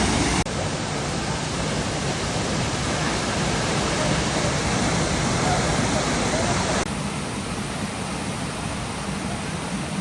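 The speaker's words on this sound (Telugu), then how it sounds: "వయనాడ్లో మనకి 2 వాటర్ ఫాల్స్ ఉంటాయి" Soochipara waterfall in Wayanad roars as a steady, dense broadband rush of falling water, loud and unbroken throughout, with a slight drop in intensity near the end.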